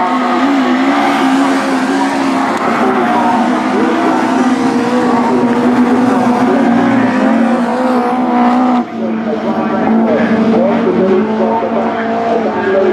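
Class 5 rally cars at Cwmdu Bas drift around a bend, engines roaring loudly and continuously close by with a brief dip as one lifts off, while a commentator speaks over the noise.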